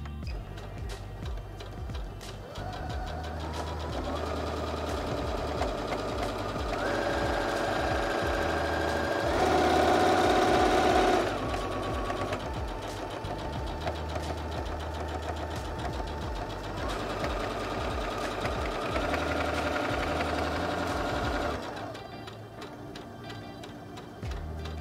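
A Singer HD6805C sewing machine runs under manual control, its mechanical whir and stitching chatter holding steady for most of the time, rising briefly in the middle, then cutting off near the end.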